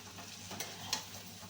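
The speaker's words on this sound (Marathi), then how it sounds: "चांगली हलवून घ्यायची आणि 5-10 मिनिटात शिजते ही भाजी" A vegetable with turmeric is stirred in a pan, giving a soft sizzle with two quick scraping strokes; brief, quiet and close, without voices.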